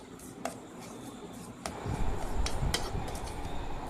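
Sweet idiyappam being mixed with grated coconut in a bowl, giving a few soft utensil clinks early on, then a denser scraping and stirring texture, close and moderate in level.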